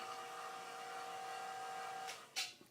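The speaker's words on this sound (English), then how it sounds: "I'll shut off the vacuum pump" A vacuum pump on a plasma setup hums steadily with a tonal whine, then is switched off, the drone dropping away, followed by a couple of short clicks or handling noises.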